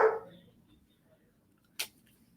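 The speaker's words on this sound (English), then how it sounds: "My dogs are not happy, you can hear." Guard dog barking indoors, two short sharp barks spaced apart, the first louder and nearer, with quiet between them.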